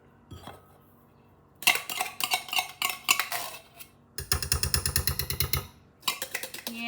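A spoon scrapes and clinks against a crock pot while sauce is spooned over food, in quick bursts of rhythmic metallic taps and scrapes, close up, separated by brief pauses.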